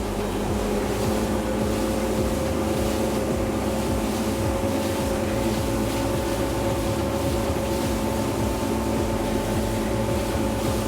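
Reef Runner 23 small boat with its engine pushed up toward 4,000 RPM, a loud steady motor drone mixed with wind and rushing water, constant from start to finish.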